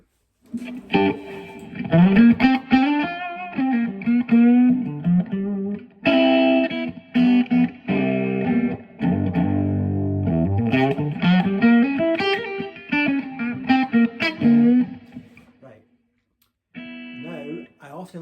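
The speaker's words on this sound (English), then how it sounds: "I'm on the clean channel, no booster mod. Let's put a bit more reverb on that." Clean electric guitar plays melodic phrases and chords through a small Boss Katana practice amp on its clean channel, each note trailing off in a wash of reverb.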